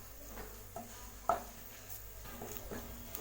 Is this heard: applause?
no